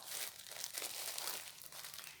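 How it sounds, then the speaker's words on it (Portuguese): Crinkly rustling from handling a length of size 5 zipper tape sold by the meter, likely in plastic wrapping, a steady close crackle throughout with no talking. "Eu vou pegar esse zíper a metro aqui"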